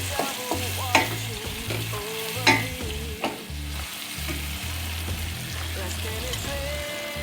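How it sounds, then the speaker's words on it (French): Onion sautéing in a pan for a rice and raisin dish with meatballs, with soft sizzling under repeated stirring scrapes and a few sharper utensil knocks, close and steady throughout. "On revient à l'oignon"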